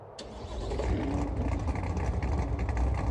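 A Corvette C7 Stingray idling and building engine rumble on a road in Ontario, a steady, loud low drone close by with a brief sharper burst near the start.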